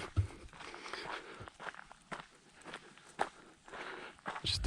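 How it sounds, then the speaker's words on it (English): Close footsteps crunch along a forest trail in the Piney Woods of Texas, an irregular walking rhythm of scuffs and leaf-litter crackles over quiet woodland ambience. "and the sound of footsteps."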